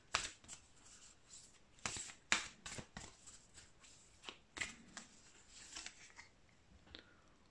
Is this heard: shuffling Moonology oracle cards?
yes